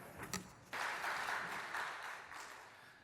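Church congregation applauding during a Sunday worship service, a broad sustained clapping swell that starts abruptly, fills the room and gradually thins toward the end, with brief voices before it.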